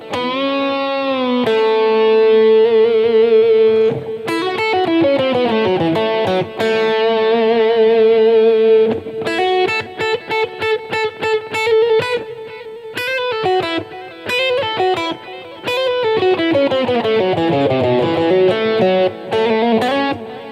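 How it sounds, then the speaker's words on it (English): An electric guitar played through an overdrive pedal with delay and reverb plays a song in loud, sustained, distorted melodic lines with echoing tails, continuously for about twenty seconds, with no talking. "I'm using an overdrive pedal right now. So that's what I'm actually playing through."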